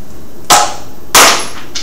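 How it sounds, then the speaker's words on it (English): Two sharp, loud snaps from a projectile-motion lab launcher firing a washer, about 0.6 seconds apart, each a brief burst with a short tail, followed by a faint tick. "give the washer a good sharp, good quick tug, and it'll fire out"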